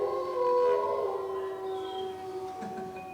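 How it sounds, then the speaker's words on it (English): Wolves howl in long, wavering tones, several overlapping voices rising and falling over a quiet wilderness backdrop, fairly loud at first and fading slightly toward the end. "Oh, do you hear the wolves?"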